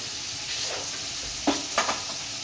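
Steady hiss of mustard seeds and cumin frying in hot oil in a pan, with a few sharp crackles and pops near the end; no voices.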